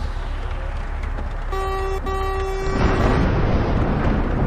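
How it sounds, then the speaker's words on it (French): Truck horn in Euro Truck Simulator 2, one steady toot with a brief break, then a low rolling thunderclap swelling underneath as the horn stops, set over constant engine and road rumble. "Putain, je klaxonne, il y a un coup d'orage."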